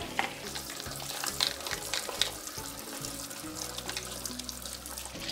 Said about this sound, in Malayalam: അപ്പോൾ ആദ്യം ഈ നെല്ലിക്ക ഞാൻ നന്നായിട്ടൊന്ന് വാഷ് ചെയ്തെടുക്കുകയാണേ